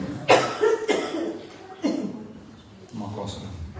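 Several sharp, close coughs come in separate bursts over a few seconds, with a fainter cough near the end and a low murmur underneath.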